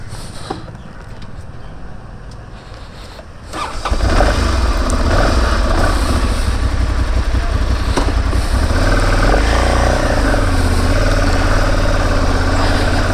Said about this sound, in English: So I'm just gonna start the bike and give you guys a more in-depth review of this.